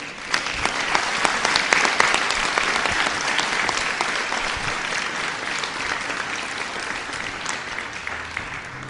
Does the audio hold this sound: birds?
no